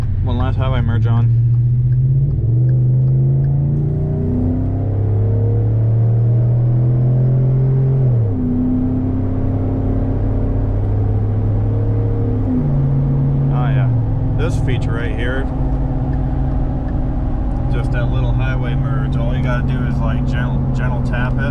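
A Ford F-150 pickup truck engine roars and climbs through several gear shifts while merging onto a highway, revving up repeatedly with a deep, loud rumble heard from the cab.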